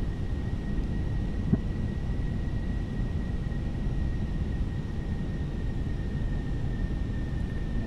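Airliner landing in a flight simulator game: a steady, loud engine and airflow rumble holds for the whole stretch under a thin, constant high tone, with no voices.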